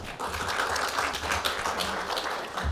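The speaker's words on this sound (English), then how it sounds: "Having some applause." Audience applause at a breakfast event, a steady wash of many hands clapping that stays level and fairly loud throughout.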